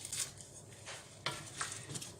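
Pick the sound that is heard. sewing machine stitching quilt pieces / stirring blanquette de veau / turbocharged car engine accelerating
stirring blanquette de veau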